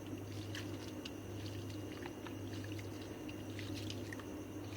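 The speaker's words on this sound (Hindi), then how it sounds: "अब हम इन आलू को अच्छी तरह धो लेंगे, ऐसे मसल के इस ठंडे पानी में" Potatoes are squeezed and rinsed by hand in cold water, making faint, scattered soft splashes and squishes over a steady low background hum.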